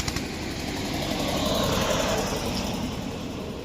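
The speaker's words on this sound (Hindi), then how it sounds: "एक मिनट ट्रैक्टर आ रहा" A tractor approaching on a road in rural Purvanchal, Uttar Pradesh, India: a close, loud, steady engine rumble that holds throughout, with no talk over it.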